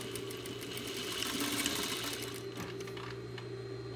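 Quiet, continuous stitching from a sewing machine running pieces through one after another in a row, with a steady mechanical whir and light ticking throughout.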